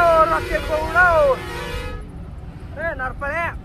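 A truck's musical horn sounds in two bursts of rising and falling tones, loud and close over steady road rumble, with a short quieter gap between the bursts.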